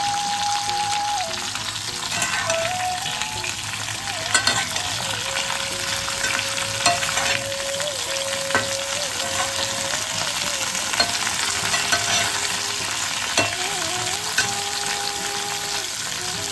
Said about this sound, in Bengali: শিমটাকে আমরা হালকা নাড়াচাড়া করে নিচ্ছি। এবার ডুমো করে কেটে রাখা লাউ দিয়ে দেবো।